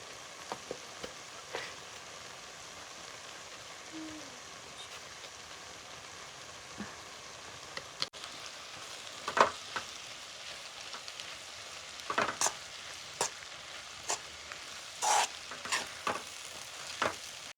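Chillies fry in a pan of oil while mogara greens are cooked in a village kitchen, with a soft, steady sizzle and scattered crackles and pops that grow busier toward the end.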